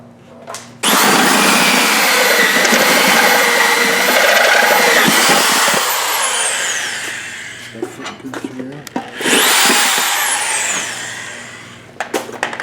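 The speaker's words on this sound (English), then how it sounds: "I'm going to a stronger drill because I'm sick of playing around" A powerful drill whines loudly and steadily as it bites into a chrome valve cover, punching a breather hole, then cuts out; a second shorter burst follows, with a voice between.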